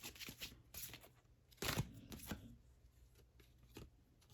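Tarot cards being shuffled and laid down during a reading, soft riffling bursts and papery slaps close by, with one louder flurry in the middle, otherwise quiet.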